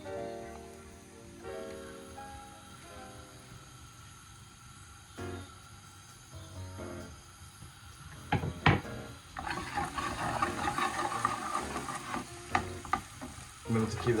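Onion, garlic and ginger land in hot extra virgin olive oil in a pan over medium heat, starting as quiet stirring and clinks, then breaking into a louder, crackling sizzle up close.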